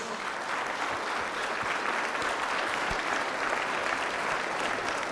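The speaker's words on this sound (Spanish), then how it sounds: "Fuertes aplausos a la palabra de Dios" Loud, steady applause from a church congregation during a Catholic service, dense and continuous throughout with no speech over it.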